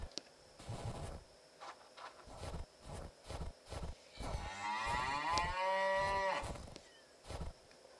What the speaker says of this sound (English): But what are cows doing up here?